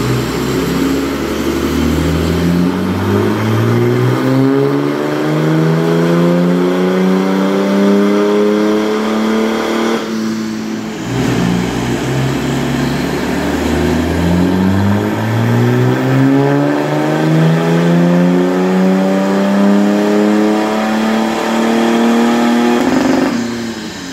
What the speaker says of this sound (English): They're filling this 330D up. As you can hear, it's had some work done to it.